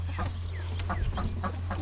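A hen clucks inside a backyard nesting box that holds eggs: a run of short, close, repeated clucks at a steady rhythm over a constant low hum.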